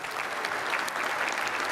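Brief burst of audience applause at a talk, a dense, steady wash of many hands clapping at even loudness for under two seconds.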